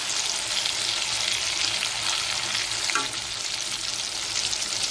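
Raw banana pieces seasoned only with salt and turmeric fry in hot oil, a steady close sizzle throughout with a faint scrape of stirring around the middle.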